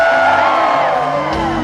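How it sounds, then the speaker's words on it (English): A concert crowd at a show screams and whoops loudly together, a sustained mass of shouting voices. "And you scream."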